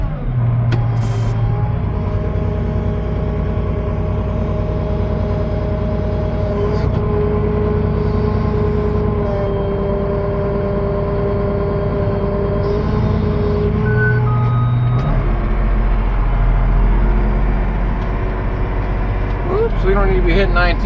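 A baler wraps a cornstalk bale in a 40-acre field while its tractor engine runs steadily near 1730 RPM, giving a loud continuous droning hum with harmonic tones and a brief shift near the end.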